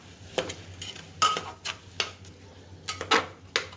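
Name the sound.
sautéing onion, potato, tomato and chilli in a pan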